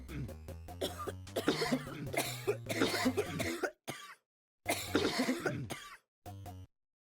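Repeated cough sound effects on a livestream, fired in rapid clusters with short silent gaps between, harsh and close, with a low hum beneath the first bursts.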